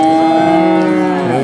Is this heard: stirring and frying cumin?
no